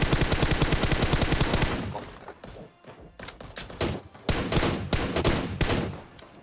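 Rapid bursts of PUBG Mobile gunfire, a fast machine-gun stream at first, then scattered heavy shots and thuds after a brief lull, loud and close.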